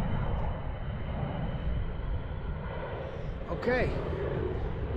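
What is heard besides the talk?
four-engine airplane flying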